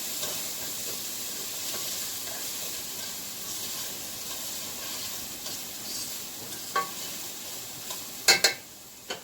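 Steady close sizzling and hissing of food frying in a hot soup pot, with a few sharp clinks of a utensil near the end.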